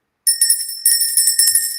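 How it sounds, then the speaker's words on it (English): A small bell is rung repeatedly in a quick, steady jingling rhythm, bright and ringing, loud and close with no talking over it. "let me ring the bell for 30 seconds if that's okay with you"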